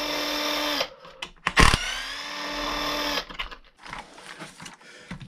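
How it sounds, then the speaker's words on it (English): A small power driver whines as it backs the shock bolts out of a Traxxas E-Revo RC car, giving a steady high motor tone for a few seconds that then drops to quieter clicks and handling noises. "Pull out the bolts for our shocks up here."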